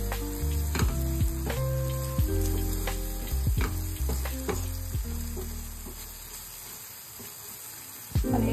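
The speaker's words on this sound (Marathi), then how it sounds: "टाकणार आहे सुकं वाटलेलं खोबरं. मिक्स करून घ्या चांगलं." Dry grated coconut stirs through sizzling masala in a pan for a chicken rassa. Close, constant frying hiss runs under repeated scraping and clacking of a spoon on the pan, with a sharp knock near the end.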